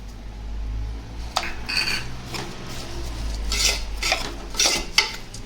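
A spoon scrapes and knocks against a pot as rice with spices and vegetables is stirred for paneer matar pulao, irregular strokes over a low steady hum with no talking.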